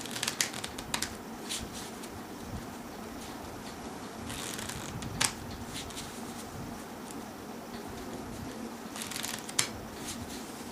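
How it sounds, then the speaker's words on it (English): Cards being shuffled, soft riffling and flicking bursts repeating every few seconds, quiet and close with no talking. "I'm just gonna need 3 shuffles to do that."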